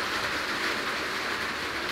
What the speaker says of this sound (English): that's rain coming now.